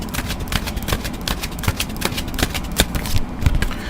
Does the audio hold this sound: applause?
no